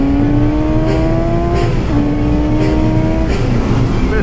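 A 2017 Suzuki GSX-S750 motorcycle engine drones loudly and continuously while being ridden, its pitch climbing and dropping with a few quick shifts.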